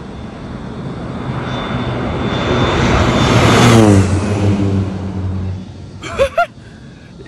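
A propeller airplane makes a very low pass directly overhead on a Canadian farm, its engine roar swelling to a loud peak with a falling pitch sweep before fading, followed by a couple of short bursts.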